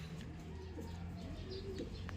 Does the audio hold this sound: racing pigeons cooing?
yes